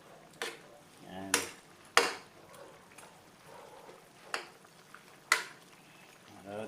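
Food being stirred in a pan during cooking, a handful of sharp utensil scrapes and knocks spaced irregularly over a low, quiet sizzle, with no talking.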